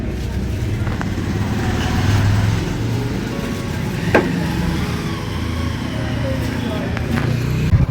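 Heavy road traffic on a crowded street, with many vehicles making a continuous low rumble and engine drone throughout, mixed with voices nearby.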